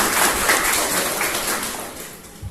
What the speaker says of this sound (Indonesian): Tepuk tangan dong buat Bu Tunjung